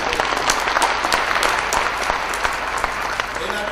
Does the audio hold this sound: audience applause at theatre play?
yes